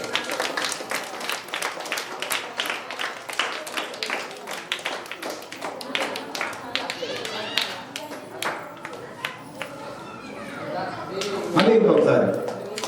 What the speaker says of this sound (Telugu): క్లాప్స్ కొట్టండి సార్ అందరూ